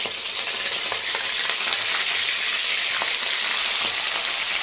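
Gram-flour-coated lote fish (Bombay duck) pieces fry in hot oil, a few at a time, giving a steady, close, loud sizzle with faint crackles throughout and no talking.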